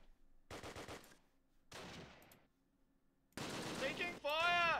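Gunfire in the WWII strategy game Close Combat Last Stand Arnhem, short machine-gun bursts separated by gaps, then a sustained loud volley mixed with a sweeping tonal game sound.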